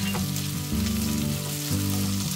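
Cashews, sesame seeds and chopped chilli frying in oil in a pan, giving a loud continuous sizzle close by with a few brief stirring scrapes, no talking.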